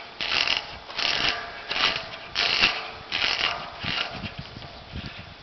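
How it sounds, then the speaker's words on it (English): A gas shutoff valve on a home hot water tank is turned clockwise to close it, giving a run of close, scraping, ratcheting metallic clicks in short repeated bursts, with no talking. "Turn this valve clockwise to close it."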